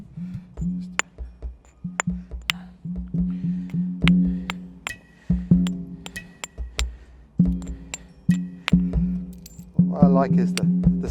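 Red deer antler hammer striking flint while knapping a small hand axe, a run of sharp clicking knocks in an irregular rhythm, close and fairly loud, with a voice speaking beneath them.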